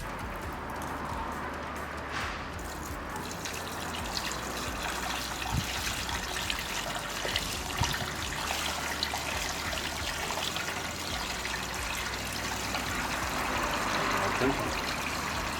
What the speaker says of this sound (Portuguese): esvaziamos e limpamos com uma mangueira de água a correr